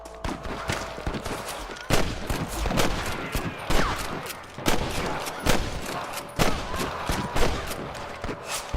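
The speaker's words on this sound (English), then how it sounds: "That was some pretty damn good shooting, John" Gunfire in the Red Dead Redemption video game: repeated sharp rifle and pistol shots in irregular bursts, some in quick clusters, loud and close, with game ambience between the shots.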